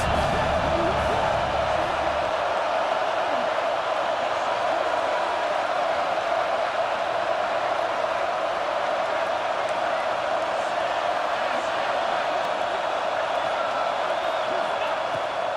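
A stadium crowd in a John Madden college football video game roars in a steady, loud wash of cheering as a third down begins, with no one talking over it.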